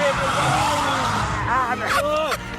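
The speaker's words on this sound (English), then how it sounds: "How about a donut? Handbrake down with a donut." A car spins a handbrake donut, its tyres skidding and squealing in rising, wavering chirps over a loud engine, while people talk close by.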